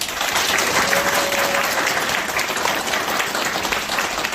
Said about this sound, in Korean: 인사할 때 우리 박수로 굉장히 감사합니다